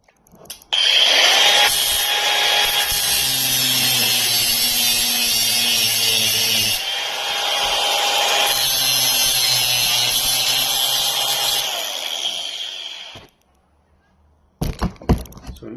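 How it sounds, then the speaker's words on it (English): An angle grinder cuts into a steering shaft joint, making about 4 mm cuts to fix a knocking steering, and gives a loud continuous whine with a harsh grinding rasp for roughly twelve seconds before stopping, followed by a few brief clanks. "So now I'm gonna use a grinder."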